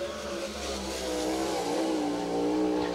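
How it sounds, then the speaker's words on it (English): Shark Racing number 1T race car with a Newman's Racing engine driving back onto Red River Valley Speedway, its engine droning steadily and slowly swelling louder as it moves, with no voices. "Looks like Tanner Holmes making it back onto the speedway in the Shark Racing number 1T."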